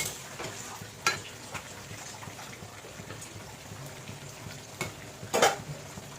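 Mutton sautéed with Kashmiri red chilli powder and papaya in a pan, a faint continuous sizzle with a few sharp scrapes of the spatula as it is stirred, quiet and close.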